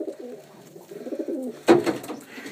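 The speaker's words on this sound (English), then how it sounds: "these are my racing pigeon squabs, some of my very good ones." Young racing pigeon squabs give low, murmuring coos close by, followed by a louder burst of wing flutter and scuffling.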